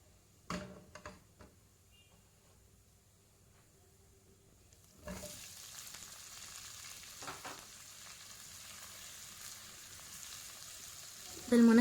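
Cubed potatoes, medium-sized, stirred into onions frying in a pan, a soft steady sizzle with a few scraping stir sounds, growing busier partway through.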